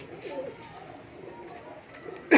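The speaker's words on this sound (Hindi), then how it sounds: "ये कबूतर चेक करें।" Pigeons coo softly nearby, a few low rolling calls spaced across the moment over faint background noise, ending with a sudden sharp, louder burst.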